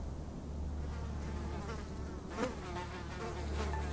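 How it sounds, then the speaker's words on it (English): Buzzing flies in the ATOM RPG wasteland, a faint continuous insect drone over a low hum, with one brief louder buzz passing close midway. "And we hear the buzzing flies"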